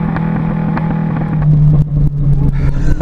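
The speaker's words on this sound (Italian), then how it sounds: "Sentite come scoppietta!" A Renault 5 Turbo 2 engine runs loud and close, its rumbling exhaust crackling with brief irregular pops.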